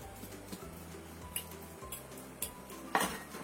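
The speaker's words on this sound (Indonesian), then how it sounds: "Ini kita pecek-pecek kentangnya itu sampai halus. Bisa menggunakan ulekan, bisa juga menggunakan garpu seperti ini." Metal fork tapping and scraping against a bowl while mashing potatoes, irregular clinks, close up, over a low steady rumble.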